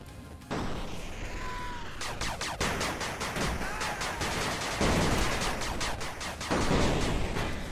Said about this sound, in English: Machine gun turret under attack.